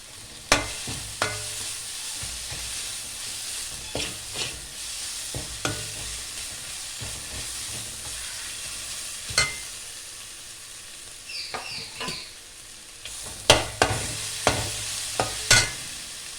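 Ginger garlic paste fries in a pan under a low, quiet sizzle, broken by scattered sharp knocks and scrapes from a stirring spoon against the pan, close with no voices.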